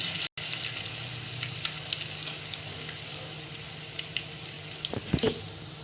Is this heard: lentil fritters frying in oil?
yes